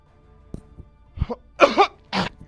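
Three harsh coughs close to the mic, coming in quick succession after a near-silent start, the middle one the loudest.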